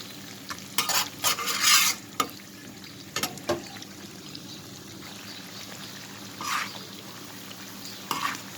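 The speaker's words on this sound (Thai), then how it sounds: "อันนี้เราแบ่งทอดสองชุดนะคะ แล้วก็คนให้มันกระจาย มันคอยพลิกด้วยนะคะ" Shredded pork fries in a pan while being stirred and turned. Intermittent scraping stir strokes come in short bursts over a quiet, soft background sizzle, with no voices.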